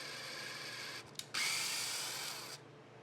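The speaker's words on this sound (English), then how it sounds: "I'm going to drill those into the new dowels that are in the neck" A power drill whirs briefly, stops, then runs again for over a second of steady high-pitched grinding into wooden dowels in a Gretsch Junior Jet guitar neck, close and alone.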